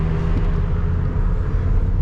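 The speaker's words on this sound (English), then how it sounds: "you hear more exhaust coming in the cabin." Low, steady rumble of a BMW E60 M5 exhaust carries into the cabin through an open sunroof while idling or cruising at night in a city, dense and continuous.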